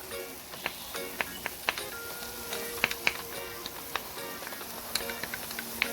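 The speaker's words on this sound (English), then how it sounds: "I'm going to add my minced garlic." Minced garlic and softened onions sizzle in a pan for a beef stir-fry, a soft continuous hiss dotted with frequent small pops and crackles.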